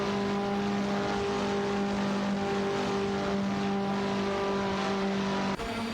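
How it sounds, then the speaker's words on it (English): Racing car engines in a video game race, a KTM X-Bow R and a Praga R1 battling for position, droning with steady high-pitched tones that hold throughout and cut off abruptly near the end. "Smurf20 and Adam GT3 are battling hard for 3rd place, with Smurf20 in a KTM Expo R and Adam GT3 in a Praga R1"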